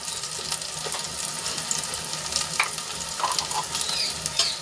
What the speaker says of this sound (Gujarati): બધા મસાલા સરસ રીતે આપણે સાંતળી લઈશું